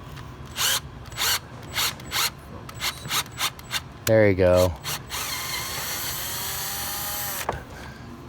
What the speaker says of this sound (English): this tap will cut the threads